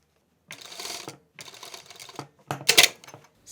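A sewing machine stitches bias tape onto a hoodie in three short mechanical bursts, close and clear, the last one sharpest.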